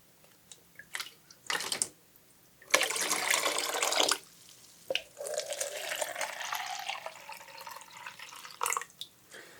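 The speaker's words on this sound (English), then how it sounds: "this water is from the ocean." Ocean water in a close ASMR recording sloshes and drips in bursts, with splashy pours separated by short pauses and single drips. It sounds close and fairly loud, with no talking.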